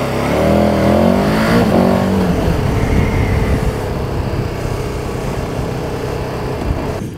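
A KTM vehicle's engine pulls hard while driving, a loud rising rev that settles into a steady rumbling drone with road noise.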